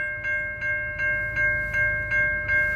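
A freight train rolls past the Zoschke Road crossing in Riverside, Michigan, close and loud, with a steady tonal drone and an evenly spaced rhythmic thump from the cars.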